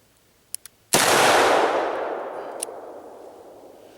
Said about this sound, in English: we might just shoot a couple more for fun with this big boy. Double action here.